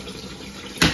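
Warm tap water running while Shark Lift-Away vacuum filters are rinsed, a soft trickle that swells into a sudden louder splash near the end.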